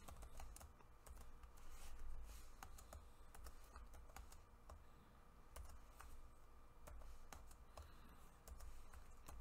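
Slow, irregular keystrokes tap on a computer keyboard while CNC G-code is entered, each click quiet and close, with small pauses between bursts and no voices.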